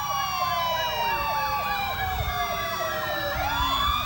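Wailing fire engine siren from a Lansing Fire Department engine at a neighbourhood parade, its pitch rising and falling in repeated cycles over a steady engine rumble, loud and continuous with a second siren tone layered in.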